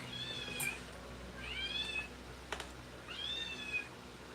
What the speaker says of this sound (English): Let me let this cat out of here.